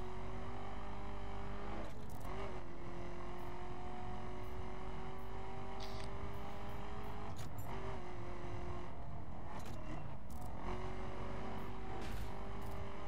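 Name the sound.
car driving in the video game The Crew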